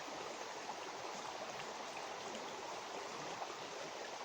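A river at a gold prospecting spot rushes steadily, giving an even, continuous wash of flowing water with no pauses, heard close and alone.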